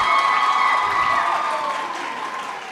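A round of applause from the crowd at a university student council inauguration on the UFS QwaQwa campus, clapping blended with some cheering voices that gradually taper off.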